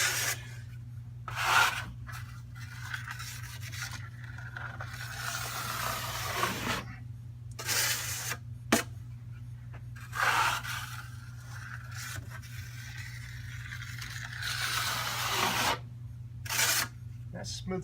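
A drywall knife drawn over joint compound on a wall patch gives repeated soft scraping strokes, each a few seconds long, close and moderately loud over a steady low hum.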